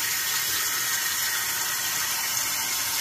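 Water pours steadily from a motel room sink tap, a constant close hiss and splash that holds even for the whole stretch, with no speech.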